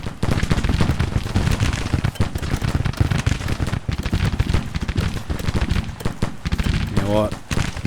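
Massed Fayetteville rifles firing in the Civil War strategy game Grand Tactician, a loud, dense crackle of overlapping shots that runs without pause for the whole stretch, with a brief voice near the end.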